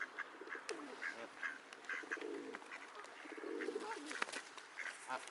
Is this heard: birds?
yes